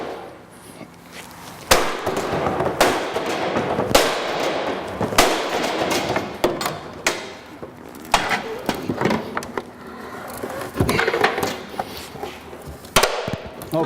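A forcible-entry tool hammered into a door gap, sharp metallic bangs struck at irregular intervals about a second apart, loud and close, with scraping and clanks between blows.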